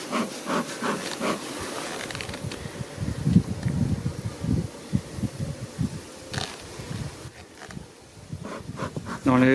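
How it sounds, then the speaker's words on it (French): Honey bees buzz around an open hive during a honey harvest, with a steady close hum, some rustling and a few sharp knocks and clatters. "Donc là je dis bonjour aux abeilles."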